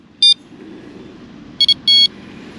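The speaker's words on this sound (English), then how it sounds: "Switch the alarm on." A fishing bite alarm on a rod set up by the water is switched on and gives a short high beep, then two quick chirps and a longer tone, all clear above a low steady outdoor rumble.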